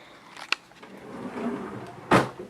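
A dorm room drawer opens with a sharp click followed by a longer scraping slide and rattle of contents, close and fairly loud, with no talking.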